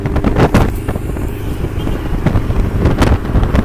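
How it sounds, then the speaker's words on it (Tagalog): A strong headwind buffets the microphone of a cyclist riding at about 35 km/h in a breakaway during a road race stage, making a loud, continuous roar with rough gusts and thumps and no voices. "Strong headwind."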